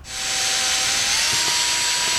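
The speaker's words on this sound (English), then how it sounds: "mark the middle, drill a pilot hole" A power drill whirs steadily at high speed, close and loud, boring a pilot hole with a constant whine and no talking.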